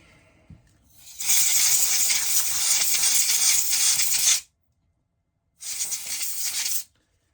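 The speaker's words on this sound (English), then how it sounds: "Let me take a little compressed air here." Two hissing bursts of compressed air blast across a Winchester Wildcat .22 rifle during cleaning, a long spray of about three seconds followed by a shorter one after a brief pause, close and loud.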